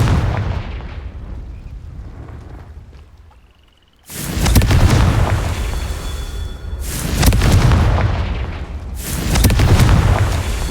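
Confringo spell blasts in Hogwarts Legacy: after a fading rumble and a brief quiet, three loud, close explosive booms arrive at a regular interval, each followed by a rolling decay.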